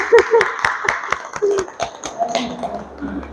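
An audience claps for yoga participants at a morning yoga session, with a run of separate, fairly close hand claps under ongoing speech.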